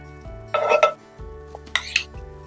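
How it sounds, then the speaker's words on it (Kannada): Pure coconut oil poured into a hot pan, with soft stirring and a brief sizzle and clatter of a spoon against the pan, in two short bursts over quiet kitchen background. "ಇದಕ್ಕೆ ಇವಾಗ ಒಂದು 2-3 ಸ್ಪೂನ್ ಎಣ್ಣೆ ಹಾಕ್ಬಿಡಿ. ಪ್ಯೂರ್ ಕೊಬ್ಬರಿ ಎಣ್ಣೆ ಹಾಕ್ತಾ ಇದೀವಿ."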